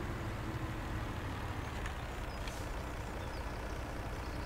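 Steady, continuous engine drone of a farm vehicle driving in Farming Simulator 17, a loud low rumble that holds evenly throughout with no talking.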